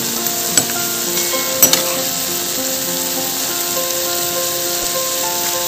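Bread slices for Hyderabad-style double ka meetha fry in oil with a loud, steady, close sizzle, marked by a couple of brief sharp crackles early on and no talking.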